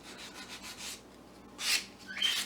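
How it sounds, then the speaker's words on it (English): Chalk-painted wood being sanded by hand along the grain, a run of soft scratchy rubbing strokes followed by two louder, harsher passes near the end, close and alone with no voices. "I'm finished with the sanding"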